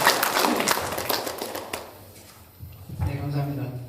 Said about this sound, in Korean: 힘들게 앉아 계시는 우리 선배님들께 이제 박수 한번 치고 지나가시죠